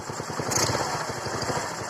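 A Rusi Passion motorcycle fitted with a D-type carburetor runs steadily close by, its engine holding a low, throbbing, slightly raspy note with mild throttle swells throughout.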